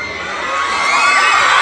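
A stadium crowd of fans at a rock concert shouts and cheers in a dense, loud roar that swells steadily over under two seconds, with high excited voices layered on top.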